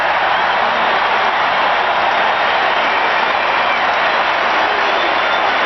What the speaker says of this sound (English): Crowd really just screaming now.